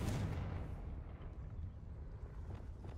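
A Confringo fire spell blasts in Hogwarts Legacy, opening with a loud, deep burst that rumbles and then trails off into a sustained low roar and crackle.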